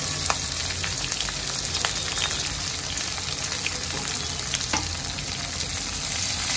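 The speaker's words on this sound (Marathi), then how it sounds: "या सर्वांना मी तेलामध्ये चांगलं परतून घेते।" Chopped onion, green chili and curry leaves fry in oil in a pan over a medium-high flame for upma, giving a steady close sizzle with light stirring crackles throughout.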